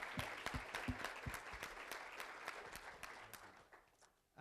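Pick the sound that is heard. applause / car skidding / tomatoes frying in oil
applause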